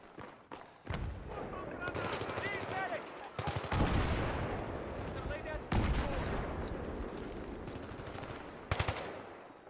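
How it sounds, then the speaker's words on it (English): Dense gunfire in the video game Battlefield 3 on PS3: rapid automatic bursts and repeated shots run almost continuously, loud and close, with a few heavier thumps. "I don't know where that guy's shooting at me."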